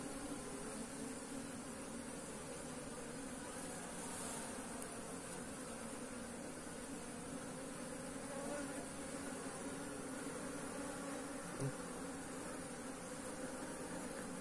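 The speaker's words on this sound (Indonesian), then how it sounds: "jadi untuk lebah ini dia jenisnya apis cerana" An Apis cerana bee colony being moved into a hive box hums with a faint, continuous buzzing drone, steady for the whole stretch with a soft occasional knock and no talking.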